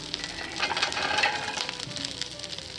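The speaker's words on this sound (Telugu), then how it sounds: "కరివేపాకు క్రిస్పీగా ఫ్రై అవనివ్వాలి" Curry leaves and dry fruits sizzle and crackle in hot oil, a steady close-up frying hiss with small pops, no talking.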